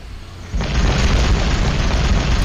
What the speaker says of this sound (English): And I do love those explosions.